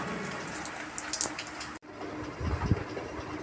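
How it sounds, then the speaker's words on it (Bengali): Heavy rain falls in a steady, soft watery hiss, broken by an abrupt cut, then continues more quietly with a few close drips and splashes. "এখন বিশাল জোর বৃষ্টি এসে গেল"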